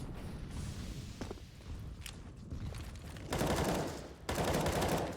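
Gunfire in a CS:GO match on the Nuke map, a few faint distant shots with light footsteps and movement early, then two louder, closer bursts near the end.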